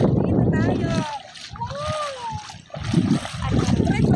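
Ocean water splashing and sloshing around a boat on an outing near Napla Islet, rough bursts at the start and end with a quieter lull between, while people talk and a voice rises over the water.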